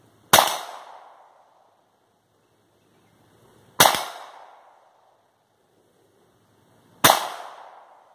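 Three sharp, loud gunshots from a Browning Buckmark pistol firing .22 LR Aquila Super Extra ammunition, evenly spaced about three and a half seconds apart, each ringing briefly before fading to near silence.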